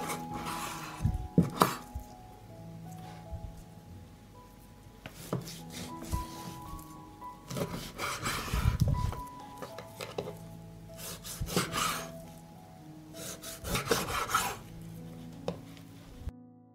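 A knife cuts 1.5 kilograms of pork belly into smaller pieces on a board, with irregular scraping strokes and dull knocks that come in loose clusters and are fairly quiet and close.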